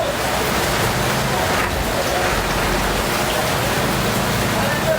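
Steady rain pours down outdoors, a dense, even hiss with no clear gaps that holds at the same level throughout.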